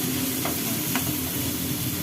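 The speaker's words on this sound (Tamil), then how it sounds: "இதை நல்லா வதக்கிக்கலாம்." Chopped onions with ginger garlic paste sauté in hot oil in a pan, a steady close sizzle with a couple of brief stirring scrapes, no voices.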